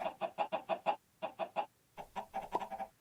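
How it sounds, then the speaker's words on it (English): Chickens cluck in the Minecraft modpack Sky Factory 3, a quick run of even, rhythmic clucks, a short pause, then another burst of denser clucking, fairly faint and with no talking. "One Draconic chicken."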